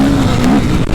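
A Suzuki RM-Z 250 motocross motorcycle on Réunion island revving loudly and close, a continuous raw engine roar with a slightly wavering pitch and no talking.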